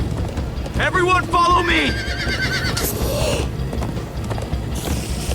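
Horses whinny loudly and gallop with quick clip-clop hoofbeats in the Minecraft Story Mode video game, close and energetic, with a voice shouting over them and game effects following.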